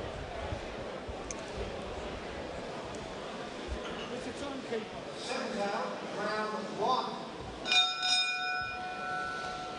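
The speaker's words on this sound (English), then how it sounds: "Bell goes to the start of the first round." At a lightweight boxing match before a decent crowd, a boxing bell rings to start the first round, clear metallic tones with lingering resonance sounding near the end, over an announcer's commentary and crowd murmur.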